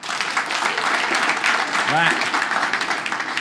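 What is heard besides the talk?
audience clapping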